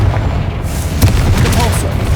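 In Hogwarts Legacy, Incendio and Confringo spells are cast in a quick sequence, producing booming blasts and crackling impacts with layered game effects.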